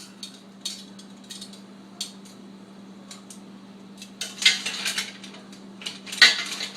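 Mussels clatter into a metal pot in scattered clinks and rattles, a few light taps first, then denser bursts of shells knocking together over a faint steady hum.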